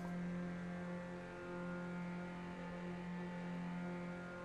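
A race car engine in the sim game Automobilista 2 hums steadily at a constant pitch, a smooth sustained drone with no clear revving, heard alone without talk.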